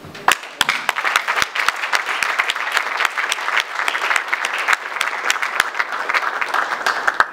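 Dense, steady applause from an audience at a crowded political rally, many hands clapping at once without letup for several seconds.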